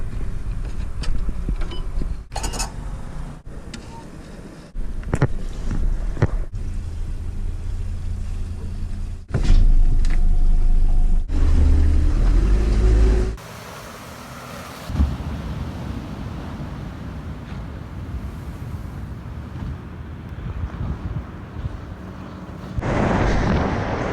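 A boat crossing a river bar on the way out to sea, loud engine rumble and wind buffeting the microphone, with abrupt jolts and surges as it rides over the waves.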